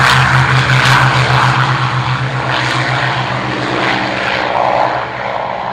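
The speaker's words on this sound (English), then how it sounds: "Turn up the speakers for the Merlins." Propeller aircraft powered by Merlin engines roaring loud and steady, a deep throbbing drone holding throughout with slight swells, no voices present.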